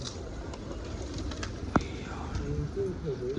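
Pigeons coo softly and steadily in the background amid constant noise, with a sharp tap near the middle and faint voices.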